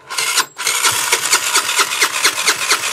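A 50cc scooter engine cranks with a brief whirr, pauses, then catches and runs with a rapid, rattly, buzzing rhythm heard up close.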